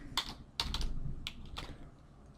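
A short burst of typing on a computer keyboard: a few separate clicky keystrokes heard up close, quiet and without talk.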